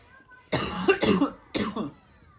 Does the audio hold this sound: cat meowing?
no